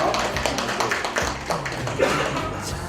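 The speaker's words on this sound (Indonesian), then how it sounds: "tepuk tangan yang meriah" Guests at a wedding reception clap together in a dense, steady burst of applause that runs the whole time, with voices mixed in underneath.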